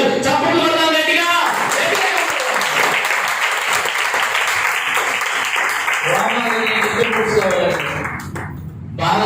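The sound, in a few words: congregation clapping loudly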